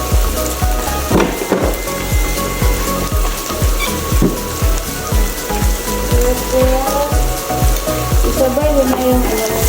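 Onions fry in a hot pan for home-made chicken kofta, a loud, dense sizzle with rhythmic stirring scrapes and clinks throughout, no voices over it.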